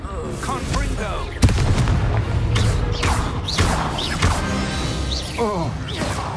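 Repeated Confringo spell blasts in the Hogwarts Legacy video game, sharp booming impacts and whooshes amid loud combat effects and character voices during a fight.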